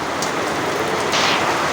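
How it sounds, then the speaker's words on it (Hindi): Heavy rain pours steadily in a village, a dense, loud continuous hiss with a brief swell of brighter drumming near the end, no voices. "और बारिश इतनी बढ़िया है कि देखो यहाँ पे खटिया,"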